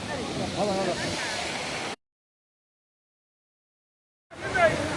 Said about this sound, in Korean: 여기는 제주도 천지연 폭포입니다